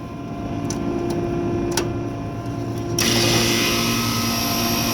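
A walk-in cooler's condenser fan motor, known to be faulty, hums steadily with a low mechanical drone, then a brighter whirring rush comes in about midway once it spins up after power-on, with a few faint clicks before.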